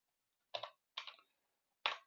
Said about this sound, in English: Argv, I'm just going to type this in.